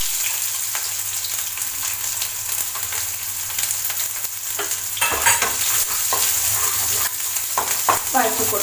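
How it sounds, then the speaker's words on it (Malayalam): Mustard seeds and small onions fry in hot oil with a bright, dense sizzle. Sharp spatters and clatters of a spoon stirring them grow busier and louder toward the end. "ഇതിലേക്ക് ഞാൻ ഒരു ടീസ്പൂൺ കടുക് ഇട്ട് കൊടുക്കുന്നുണ്ട്"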